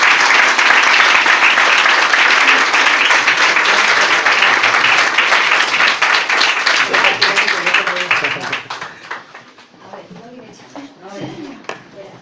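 A large audience breaks into loud, sustained applause to welcome a guest speaker at a talk, the dense clapping thinning and fading toward the end as a voice begins to speak.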